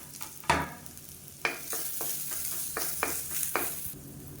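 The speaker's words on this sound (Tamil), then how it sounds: "பொடி பூண்டா தோலோட நச்சு வச்சுருக்கேன். அதை சேர்த்துக்கலாம். இது நல்லா மொறுமொறுன்னு வர அளவுக்கு வறுத்துக்கலாம்." Small unpeeled crushed garlic cloves frying in oil in a kadai, a low steady sizzle punctuated by sharp stirring clatters and scrapes, near and fairly quiet.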